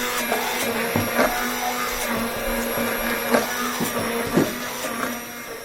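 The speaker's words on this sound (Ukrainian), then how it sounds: "Треба трішки збити, щоб була однорідна маса." An electric blender whips homemade mayonnaise in one steady, fairly loud whir with a few knocks and clatters, running continuously for several seconds with no talking.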